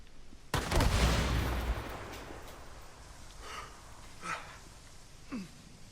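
Explosion and gunfire in the video game Days Gone: a loud sharp blast opens, trailing into a decaying rumble, followed by a few fainter, spaced gunshot cracks.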